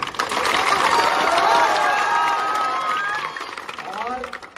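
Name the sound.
crowd clapping at a rally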